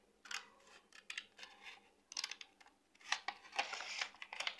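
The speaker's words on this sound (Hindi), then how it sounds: "गाइस तो ये देखिए मैं यूं काट रही हूँ इसको।" Scissors snip through paper for a handmade slider card, several short crisp cuts in uneven bursts, close and fairly quiet.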